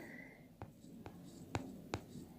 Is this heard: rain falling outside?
no